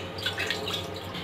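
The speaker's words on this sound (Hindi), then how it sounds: "और इसके अंदर पानी डाल देंगे।" Water poured into a pot holding a stand for steaming idli, a short close splashing and dripping trickle in a home kitchen.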